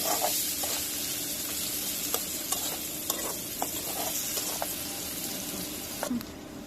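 Green chilies fry with onion and garlic in a pan, making a constant faint sizzle and hiss. Sharp clicks of stirring against the pan come at irregular intervals, with a brief scrape near the end.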